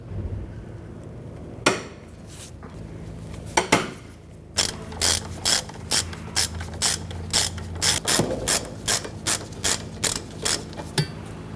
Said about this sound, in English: Remove the two 18mm bolts securing our brake caliper bracket. You can use a ratchet or a breaker bar.